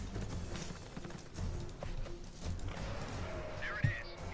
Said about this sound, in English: It's the boss's horse.